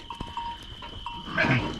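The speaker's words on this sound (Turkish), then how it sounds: "Arkadaşlar koyunları kapatıyoruz." Sheep bleating nearby as a flock is penned, with a bell clanking amid shuffling animals, short and moderately loud.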